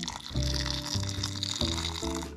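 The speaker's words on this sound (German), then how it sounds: "Also dann, ne, erstmal das heiße Wasser rein." Hot water pours steadily into a Samyang Buldak instant tteokbokki cup, a continuous liquid gurgle that rises and shifts as the cup fills over a couple of seconds.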